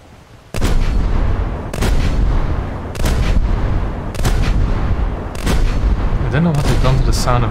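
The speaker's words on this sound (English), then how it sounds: "Sound of the gun, so that sounds horrible." Heavy ship guns fire in a naval combat video game, five or six deep booming salvos spaced about a second apart, loud and close, each leaving a rumbling tail, the last shots followed by whistling shell sounds.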